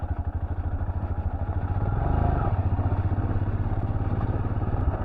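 A solo touring motorbike pulls away through a New Zealand riverbed in the dark, its engine loud and close with a steady, chugging thrum that swells briefly midway, with no talk.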